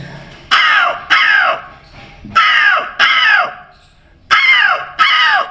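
A voice imitates a crow, letting out six loud, harsh caws in pairs with brief pauses between, close and clear.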